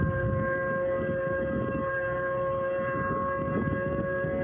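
A Polaris triple-cylinder snowmobile engine screams at around 10,000 RPM, a steady piercing whine like a siren that holds its pitch throughout.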